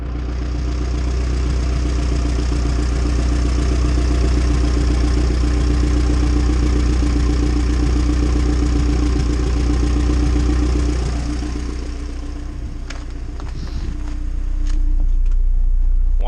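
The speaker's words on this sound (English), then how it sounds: "Just sitting here idling, letting it warm up." A red Honda Civic with a newly swapped thermostat idles while warming up, a steady low engine drone that dips briefly near the end as a few clicks and knocks sound close by.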